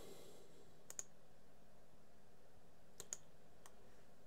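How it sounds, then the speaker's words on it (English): Backspace key tapped on a computer keyboard, two pairs of quick soft clicks about two seconds apart plus one faint later click, close and quiet in a still room. "I can get rid of that line by going hitting the backspace"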